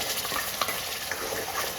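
Onion and garlic paste with ground cumin and spices sautéing in a pan for pav bhaji, a steady close sizzle with occasional stirring scrapes, no talking.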